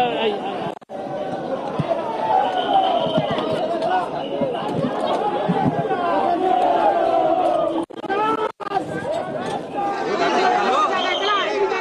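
A dense crowd of passengers chatters at Dadar railway station as a train arrives, a loud, steady wash of overlapping voices close by with brief dips, and a voice speaking over the hubbub.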